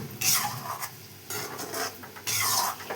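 Spicy potato mixture salted and being stirred in a pan, a close scraping, rasping stir in a few uneven strokes with faint sizzling between them.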